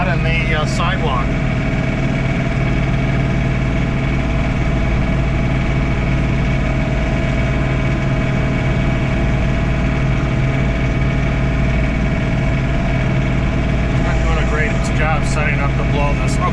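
A John Deere 3046R compact tractor drones steadily while set up for snow blowing a driveway, its engine a constant loud, close hum throughout with a voice faintly audible over it.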